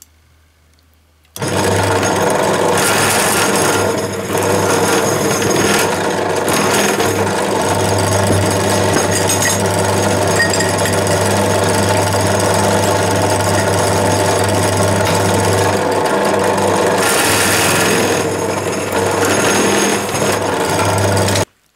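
A power tool steadily opens up holes in aluminum parts for a folding bucksaw, a continuous high-speed buzzing whir that starts abruptly and runs without break, close and loud, then stops.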